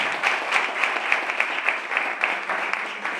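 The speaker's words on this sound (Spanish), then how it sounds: "por favor un aplauso para él." An outdoor poetry event crowd applauds a young poet, a moderate, continuous round of clapping with a faintly rhythmic pulse.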